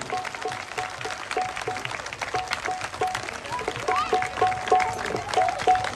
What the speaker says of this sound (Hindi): महाराज जी के लिए ताली बजाते रहिए।